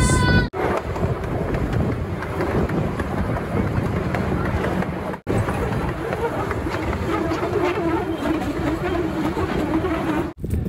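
Steady rumble of the caboose of a farm attraction train in Milton, Florida, with wind buffeting the microphone throughout and two brief dropouts in the sound.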